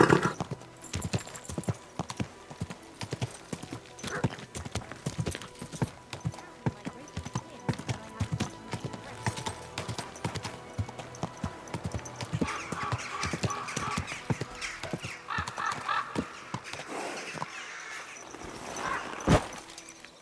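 Horse hooves clip-clopping at a slow, steady walk, close by and fairly loud, with creaks and shuffles around the steps and a brief whinny-like sound near the end.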